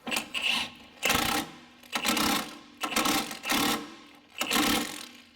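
A ratchet snugs up a control arm bolt on a Honda Accord in a series of rhythmic rasping clicks, short bursts repeating about once a second, close and alone.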